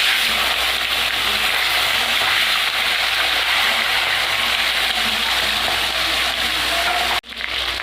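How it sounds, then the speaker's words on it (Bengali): Continuous loud sizzle of fish frying in hot oil in a wok, a dense crackling hiss that holds steady before cutting off abruptly near the end. "এবার মাছগুলো ভেজে নেব।"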